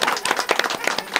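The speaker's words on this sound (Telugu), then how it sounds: "ఒకసారి గట్టిగా చప్పట్లు కొట్టు." Hands clap quickly and loudly at the Komuravelli Mallanna Jatara festival in 2025. A brisk, even string of sharp claps comes close and clear over about a second.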